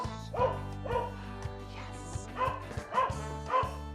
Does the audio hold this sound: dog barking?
yes